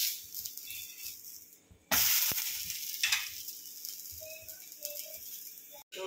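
Ragi finger millet roti on a hot pan after flipping, a soft steady sizzle with a brief rattle of the pan, close and alone.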